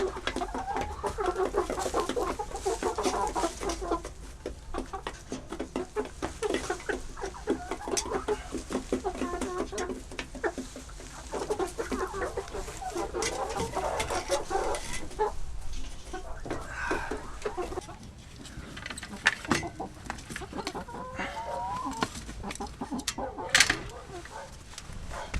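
Chickens cluck and murmur continuously on a farm in Granadilla, a busy low chatter of fowl close by, with a person talking over them throughout.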